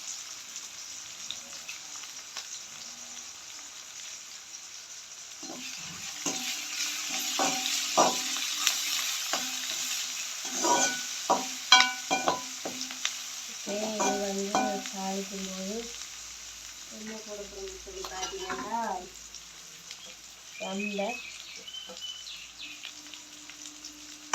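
Fennel and mustard seeds fry in oil for a Jaffna-style boonchi curry, giving a close, crackling sizzle with bursts of popping and stirring, while a voice talks intermittently in the latter half.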